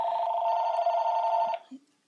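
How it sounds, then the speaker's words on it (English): A mobile phone rings with a steady, bright electronic tone held for about a second and a half, then cuts off, followed by a couple of faint soft knocks in a quiet room. "my mom's phone started ringing"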